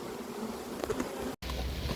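Swarm of honeybees buzzing as it is shaken from a branch, a dense continuous drone close by, with a brief dropout before the hum resumes.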